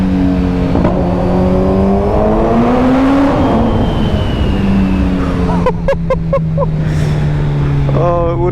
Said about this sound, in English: it will never get old, the noise of this bike